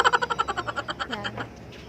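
A litter of five kittens mews in a quick, rapid series of high, thin cries, about a dozen close calls fading out over two seconds.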